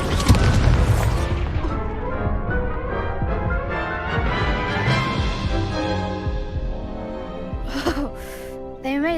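Incendio fire spell blasts and other spell effects in Hogwarts Legacy, heard as a dense, continuous wash of booming bursts, whooshes and crashes of combat, loud and layered throughout.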